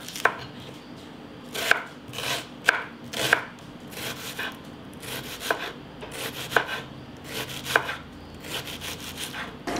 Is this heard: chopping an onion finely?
yes